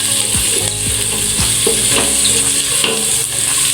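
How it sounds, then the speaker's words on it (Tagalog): A Filipino-style spaghetti sauce with ground black pepper sizzles in a pan while it is stirred without stopping, giving close scraping strokes over a constant frying hiss. "Continuous lang po sa paghalo hanggang sa mag-golden brown."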